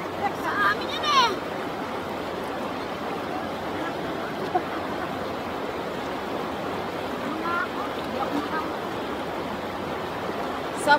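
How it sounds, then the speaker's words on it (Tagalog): A powerful stream of water rushes steadily and loudly near Mayantoc, Tarlac, making a dense, unbroken roar throughout, with faint voices now and then under the flow. "Sobrang lakas ng tubig dun sa may likod"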